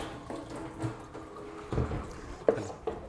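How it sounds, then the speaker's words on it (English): Lukewarm water is poured onto a pheasant skin in a taxidermy workshop, making soft, quiet splashes and drips in irregular bursts with a few sharper spatters. "Just going to put a small amount of water in here"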